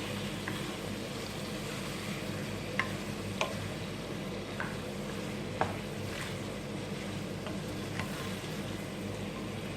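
Chicken keema with Kashmiri red chilli and coriander powder is stirred in a pan, giving a soft, steady low sizzle with occasional light spoon clicks, close and quiet, with no talking.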